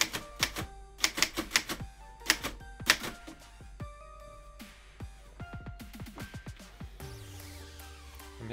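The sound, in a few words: typewriter typing onto carbon paper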